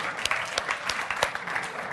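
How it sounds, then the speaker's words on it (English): An audience at a storytelling talk gives a round of applause, a short, fairly quiet patter of individual claps from a small group in a room. "give him a round of applause"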